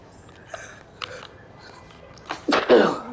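A person sneezes once, loud and close, near the end of a quiet stretch of soft video game sounds from Marvel's Spider-Man 2.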